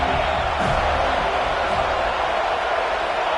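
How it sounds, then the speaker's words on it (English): A stadium crowd at a football game roars steadily for the defense on third down, a dense, loud, continuous wall of cheering without clear breaks. "Decibels rising as the crowd gets behind this defense on 3rd down."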